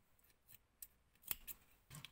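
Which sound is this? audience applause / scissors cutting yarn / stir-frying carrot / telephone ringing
scissors cutting yarn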